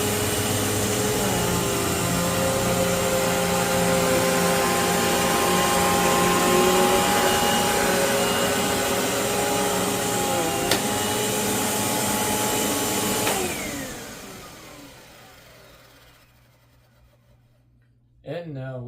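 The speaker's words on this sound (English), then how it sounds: "Next up, a personal favorite, the arguably underrated Eureka Airspeed Gold." A Eureka Airspeed Gold bagless upright vacuum cleaner runs with a loud, steady whine and motor hum close by, then winds down and fades out near the end.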